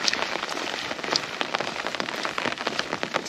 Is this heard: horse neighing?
no